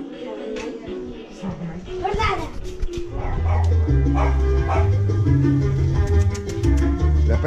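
A dog barks in short yaps at a birthday gathering, under loud music and people talking, with children's voices in the background.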